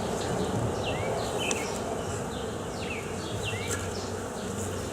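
Honey bees swarm around a hive in a continuous close buzz, with individual insects zipping past in brief pitch sweeps over the steady drone.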